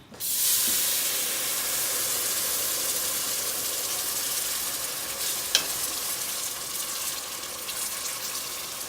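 A spoon stirs gravy in a pan for smothered pork chops: steady loud sizzle and bubbling hiss throughout, with a sharp clink near the end, no voices.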